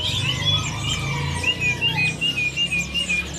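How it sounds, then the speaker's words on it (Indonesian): A green leafbird (cucak hijau) in a cage at a Jakarta bird market sings a bright run of whistled, warbling phrases close by, rising and falling over a low murmur of market background noise. "Ini ada cucak hijau yang gacoran, teman-teman."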